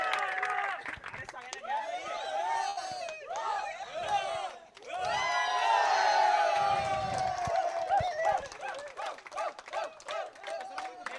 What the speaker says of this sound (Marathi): जोरदार टाळ्या होऊ देत